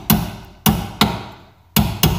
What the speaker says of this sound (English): I popped my little baby vise grips here, and then I hit it with a hammer